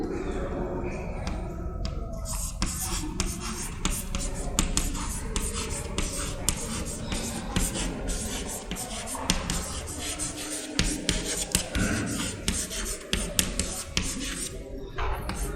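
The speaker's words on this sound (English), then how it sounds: "I will write down its definition." A definition is written out by hand during a statistics lecture on population and sample, a continuous close scratching of strokes with light taps throughout.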